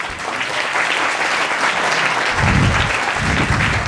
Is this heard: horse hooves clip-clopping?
no